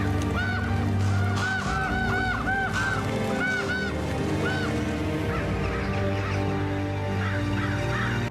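A large flock of ravens bursts from Winterfell in Game of Thrones, a loud, dense chorus of overlapping harsh calls and cries that carries steadily throughout over a continuous low rumble.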